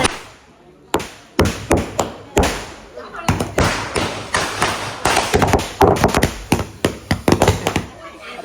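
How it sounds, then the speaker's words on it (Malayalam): Local firecrackers go off outside at a Kerala Muslim wedding, a long irregular string of sharp cracks and thuds bursting in rapid clusters, loud and close, with voices talking in between. "ലോക്കൽ പടക്ക തോന്നുന്നു. സൗണ്ട് തീരില്ല."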